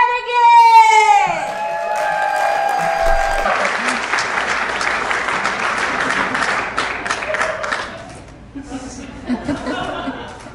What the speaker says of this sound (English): round of applause to Jonathan Flanagan!